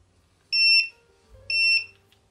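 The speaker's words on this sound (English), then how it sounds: "the bite alarm will sound" A carp fishing bite alarm gives two distinct, loud, high electronic beeps about a second apart, each lasting roughly a quarter second, in an otherwise quiet setting with a faint low rumble.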